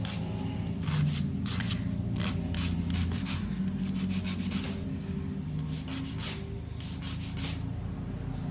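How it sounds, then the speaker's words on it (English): Nail file rasping along the edges of a fake pointy nail, quick bursts of close, scratchy back-and-forth strokes in clusters over a low steady background hum, no talk. "I'm just going to file the edges now, just to make sure it looks a bit natural"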